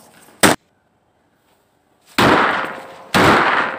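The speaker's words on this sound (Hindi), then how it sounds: "चलो साथ में मिलकर पटाखे जलाते हैं" Firecrackers set off during a Diwali celebration: one short, sharp bang, then two loud, longer crackling bursts a second apart, close and with no talking.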